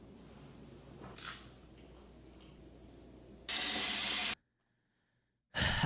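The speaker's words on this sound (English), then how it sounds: "Shower time." Shower water switches on in a loud hissing burst, runs about a second, cuts to silence, then starts again, after quieter room noise.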